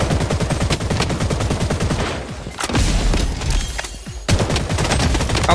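Rapid automatic P90 fire in the Blood Strike shooter game, heard as loud close bursts of fast shots separated by brief pauses, with no talking.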